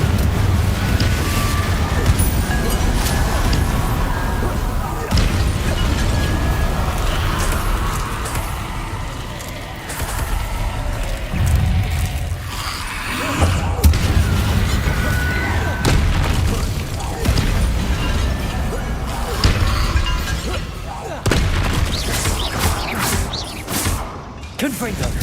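Repeated Confringo blasting-spell explosions in Hogwarts Legacy, loud booming blasts and whooshes stacked in a dense, continuous barrage with game music and effects throughout.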